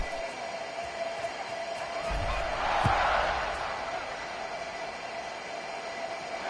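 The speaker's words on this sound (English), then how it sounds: "this crowd is buzzing after that last score" Simulated stadium crowd in a college football video game, a steady broad roar that swells briefly around a sharp kick-like thump before settling back to a constant buzzing hum.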